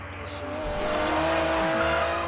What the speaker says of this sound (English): Oh, no, I'm gonna drift here.